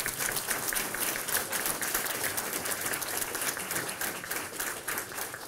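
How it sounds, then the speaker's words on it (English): Applause for Marines at a sheriff's office pinning ceremony, a sustained round of crowd clapping in a hall, moderately loud and steady with crisp individual claps throughout and no talking. "give them a round of applause"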